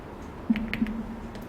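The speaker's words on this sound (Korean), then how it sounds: "키보드에서 홈키 누르면 바로 돌아가요." A Home key pressed on a computer keyboard gives a few light, close clicks over a faint steady hum, with no voices.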